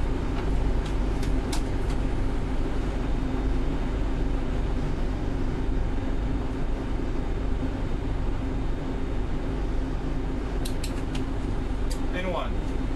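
A Boeing 737NG in a training scenario spools its engines to takeoff thrust, a loud, steady broadband roar sustained from start to finish, with short clicks and tones near the end.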